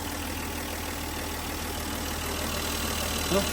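A Volvo S80 engine with a cold air intake idles steadily with a constant low rumble and broadband hum throughout, close by, with no talking.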